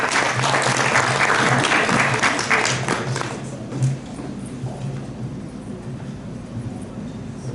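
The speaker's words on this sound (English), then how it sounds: "Yes, you can feel free to applaud." Audience applause for a conference panel on diversity in supply chains, a steady loud wash of clapping that tapers off over several seconds into room murmur.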